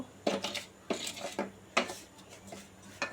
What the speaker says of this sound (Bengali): এবার সুন্দর করে ঘুরিয়ে ঘুরিয়ে আমি সুজিটাকে একটু ব্রাউন করে, হালকা ব্রাউন করে ভেজে নেব